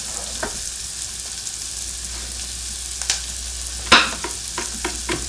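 Garlic browning in a pot for beef stew, with a soft steady sizzle broken by scraping and clattering stir strokes, one sharp clack standing out near the middle.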